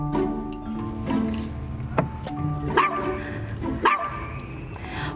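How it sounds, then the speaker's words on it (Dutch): A dog gives several short, sharp barks and yips indoors, spaced irregularly over a few seconds, close and fairly loud, with no talking. "Ga je blaffen?"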